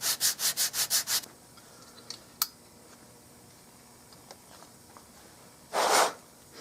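A straight edge scrapes wood from a custom Mauser rifle stock in a quick burst of seven rhythmic, close strokes, followed by a quiet stretch with a sharp tick and then one longer, louder scrape near the end.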